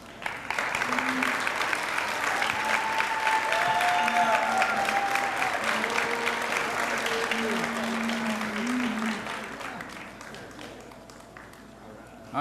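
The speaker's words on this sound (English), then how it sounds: "let's give them a round of applause" Audience applause at an 8th grade awards ceremony, a dense, sustained wash of clapping from a large crowd with scattered voices mixed in, holding steady before tapering off near the end.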